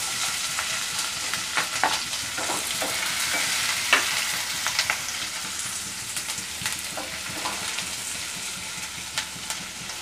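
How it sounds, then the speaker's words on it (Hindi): Cumin and onion sizzling in hot oil, a steady crackling fry with spatula stirs and scrapes scattered through ten seconds, close and moderately loud. "ऑयल गर्म हो चुका है, अब उसमें डालेंगे जीरा, फिर डालेंगे प्याज"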